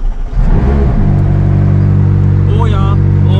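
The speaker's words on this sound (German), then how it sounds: "und jetzt der Kaltstart von McLaren" A McLaren 620R cold start: a loud close-up crank and burst of revs settling into a steady, high, rumbling idle, with a brief voice near the end.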